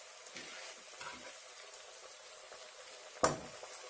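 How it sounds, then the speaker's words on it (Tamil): Banana flower vadai frying in hot oil make a faint, steady bubbling sizzle, with one brief sharp clatter near the end, quiet and close with no talk. "பொன்னிறமாக வரும் வரை நாம் வேக விடுவோம்."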